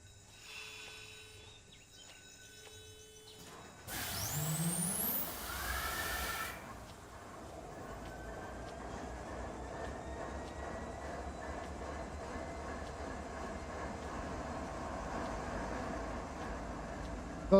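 An SD70 diesel locomotive in the Run 8 train simulator game starts up: a brief loud rushing burst gives way to a steady low engine rumble that settles into a continuous idle with no talk.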